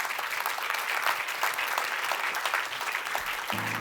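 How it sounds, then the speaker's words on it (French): Audience at a scientific awards ceremony applauding a speaker, a steady dense wash of many hands clapping throughout, moderately loud with no voices on top. "Et vous applaudissez Hervé Maisonneuve."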